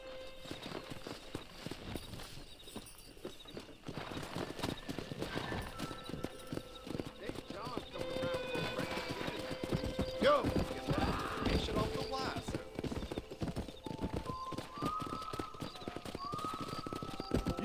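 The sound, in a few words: wild horses in Red Dead Redemption video game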